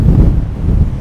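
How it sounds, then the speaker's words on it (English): A strong gale by the sea batters the microphone with loud, continuous low rumbling buffeting that swells and dips, fully masking any other sound. "It's blowing an absolute gale."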